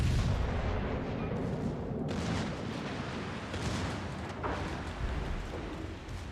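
Warship main guns firing in World of Warships Legends, heavy booming salvos rolling into one another over a continuous loud rumble, with a couple of sharper blasts standing out.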